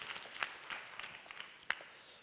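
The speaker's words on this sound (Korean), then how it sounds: "우리 다시 한번 수고했는데 우리 박수 한번" Faint, sparse applause from a youth group congregation at a church service, a few distinct claps scattered over two seconds, quiet and somewhat distant.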